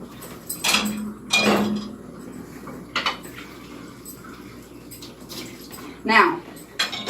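Dishes and cutlery clink and clatter in a sink in several short bursts, with quieter handling between them and someone speaking.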